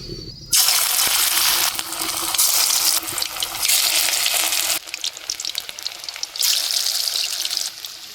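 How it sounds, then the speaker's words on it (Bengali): River shrimp pakoras dropped into hot oil burst into a loud, crackling sizzle that swells and settles in waves as more pieces go in, heard close and with no talking. "এবারে কড়াইয়ে তেল গরম হয়ে গেছে, এবারে আমি এক এক করে পকোড়াগুলো দিয়ে দেব"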